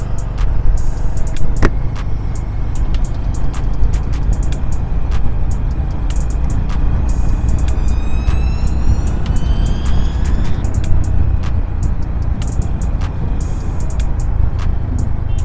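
A KTM Duke 390 motorcycle rides fast on the road from Delhi to Murthal. The engine roar and rushing wind are loud, dense and steady throughout, with occasional brief higher tones and clicks.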